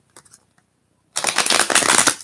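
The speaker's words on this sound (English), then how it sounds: "I want to give it a final shuffle." Tarot cards from a Vision Quest deck shuffled by hand, a brief faint riffle followed by a louder, continuous burst of dense card flutter, close to the microphone with no talking.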